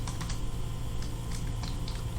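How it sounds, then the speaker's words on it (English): Typing on a computer keyboard, a quick run of light, irregular key clicks heard up close and alone over a faint room hum. "we're going to type a subject"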